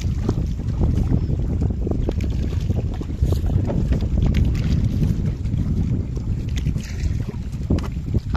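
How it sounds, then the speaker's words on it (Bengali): Strong, gusty wind on a river boat while fishing on the Jhila river, buffeting the microphone in loud, uneven roaring bursts over a low rumble of water and hull. "আর হাওয়াও দিচ্ছে খুব, তুফান উঠে গেছে।"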